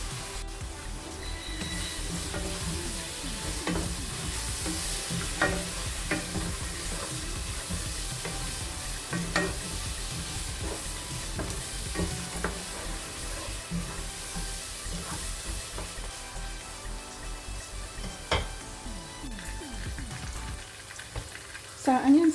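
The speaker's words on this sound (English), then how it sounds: "I'm just going to let this cook for about 2 to 3 minutes until the onions is cooked" Onions fry in a pan with a continuous crackling sizzle, softly stirred now and then, with no talking.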